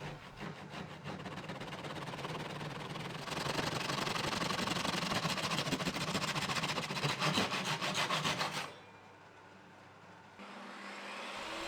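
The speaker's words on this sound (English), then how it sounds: "A handsaw will make short work of removing those." A handsaw cuts through scrap wood in quick, rhythmic back-and-forth strokes that rasp loudly for several seconds, then stop, leaving a quieter pause before faint noise returns.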